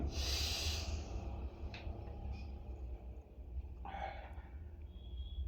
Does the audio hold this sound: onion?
no